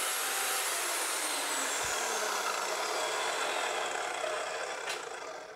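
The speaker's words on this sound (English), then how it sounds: "So as you can see, this is a piece of aluminum. We're cutting right through it." A DeWalt DW872 MultiCutter saw cuts through a piece of aluminum with a loud, continuous high-pitched whine and grinding rush that holds steady, close up and alone.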